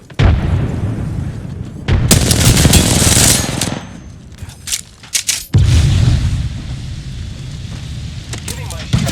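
Rapid bursts of automatic gunfire and explosions in a ranked online shooter match, loud and close, coming in dense clusters with short pauses, while players talk over the action.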